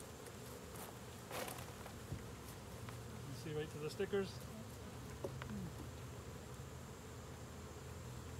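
Honey bees buzzing faintly around an opened hive during an inspection, a low continuous hum with occasional louder passes near the microphone, while a person speaks briefly.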